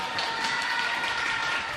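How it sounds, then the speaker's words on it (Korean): An audience cheers and applauds at a runway demonstration by a teacher at a student mentoring event, a steady, bright wash of crowd noise throughout with no clear individual voices. "런웨이에서 시범을 보이는 선생님 모습에는 환호성이 터져 나옵니다"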